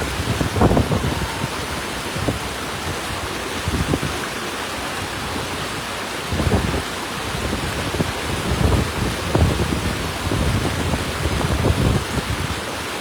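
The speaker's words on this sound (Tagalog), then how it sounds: "Dako na dito yung tubig eh." Floodwater rushes beneath Tubod bridge in Mahayahay, Iligan, as a loud, steady, broadband roar that surges and swells over about thirteen seconds, with no voices.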